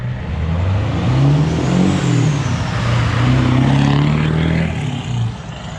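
A loud, throaty straight-piped 7.3 IDI diesel truck engine revs repeatedly, its deep rumbling exhaust rising and falling in pitch close by, no talking.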